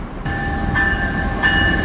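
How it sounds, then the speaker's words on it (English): A Brightline passenger train rolls slowly through downtown Fort Lauderdale, Florida, a loud, steady rumble with a sustained tonal whine that swells twice, close by and without talk. "Have this train coming in that for being a bright line is traveling pretty slow"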